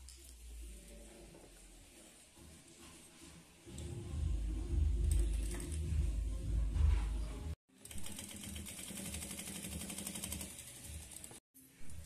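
Sewing machine stitching piping onto fabric edging, its motor whirring in a steady run that stops briefly, restarts, and pauses again near the end.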